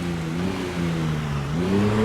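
A loud truck engine with no muffler revving in the video game Project Zomboid, a rough, droning mid-pitched roar that holds steady and then climbs in pitch toward the end, with no talking over it.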